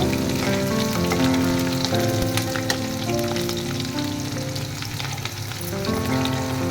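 Chopped garlic frying in oil until brown, a loud, steady, close crackling sizzle with rain-like spattering and faint stirring, continuing without pause and free of speech.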